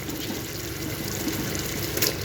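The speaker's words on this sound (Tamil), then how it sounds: "நான் பார்த்தீங்கன்னா இப்போ வந்துட்டு ஒரு 1/2 டம்ளர் தண்ணி மட்டுமே ஊற்ற போகிறேன்" Half a tumbler of water poured into simmering chicken kulambu, a Tamil chicken curry with fried gravy and chicken pieces; a steady, close splashing pour runs continuously for about two seconds with no talking.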